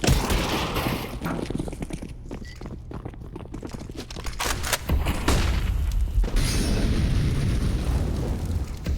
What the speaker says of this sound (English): Bomb was already planted, it was exploding